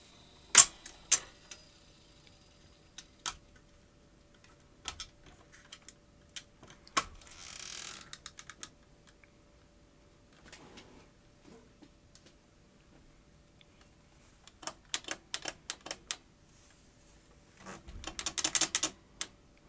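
Clicks, taps and clunks from the buttons and tape transport of a 1977 Philips N1700 VCR-LP with a faulty mechanism, scattered and close, including a rapid clattering run near the end.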